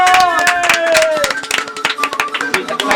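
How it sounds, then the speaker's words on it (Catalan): Audience clapping for a guest on a Catalan comedy talk show, a crowd of hands patting out quick, uneven claps that thin toward the end, with a voice and whistle-like tones riding over the top. "Fort aplaudiment per l'Opau de Pons!"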